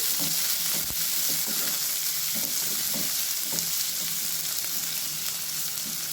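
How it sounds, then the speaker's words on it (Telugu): Bottle gourd pieces fry in hot oil with green chillies, hissing with a loud, steady sizzle while a spoon stirs them with soft scraping clatters, close up and without talking. "ఇవైతే ఆయిల్లో మంచిగా మగ్గిపోవాలండి"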